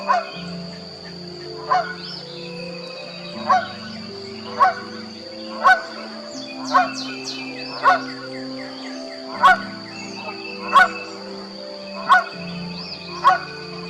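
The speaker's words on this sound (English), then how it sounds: "A goose swims by calling out as if he was looking for something." A goose swims past at a Texas state park and gives about a dozen loud honks, evenly spaced a second or so apart, over a soft steady background hum with other birds chirping faintly.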